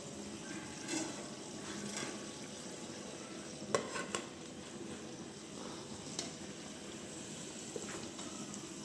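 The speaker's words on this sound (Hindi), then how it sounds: "चेंज करने के बाद ये हमारे अच्छे से फ्राई हो जाएंगे।" Potato chips and gram flour pakoras frying in hot oil, a steady, fairly quiet sizzle and bubbling with occasional soft clinks of a utensil, no talk.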